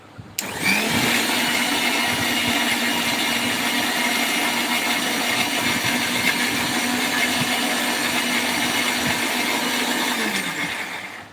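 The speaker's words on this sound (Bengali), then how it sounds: "এখন ঝটপট মশলা তৈরি করে নিচ্ছি দেখুন এই যে হাইনিকের ব্লেন্ডগুলো অনেক ভালো" A Hainik kitchen blender grinds spices in one steady, loud, continuous whir that starts abruptly, holds for about ten seconds and then winds down.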